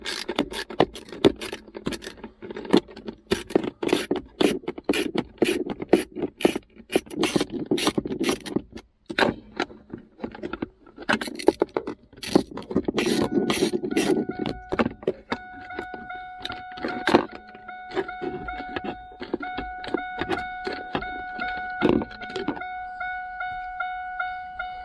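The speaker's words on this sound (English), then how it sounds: "And then you need a 7mm. Take these two 7mm" Two 7mm bolts come out of an old muscle car's center console, with rapid metallic ratchet clicks, scrapes and rattling up close, followed by a steady repeating electronic chime in the car.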